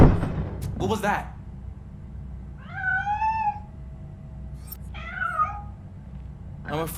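Cat meowing in the video game Robocop: Rogue City: two clear, tonal meows a couple of seconds apart, mid-loud, over a low background rumble with brief clattering sounds around them.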